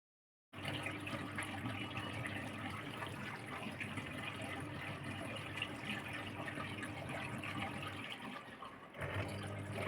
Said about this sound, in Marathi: पाणी घ्यायला पुन्हा चालू केलेलं आहे मशीन